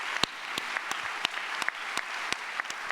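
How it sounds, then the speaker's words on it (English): A scattered round of audience applause at a NAFSA 2024 conference plenary, sparse individual claps with irregular rhythm rather than a dense ovation, moderately loud in a large hall. "let's give them both a round of applause"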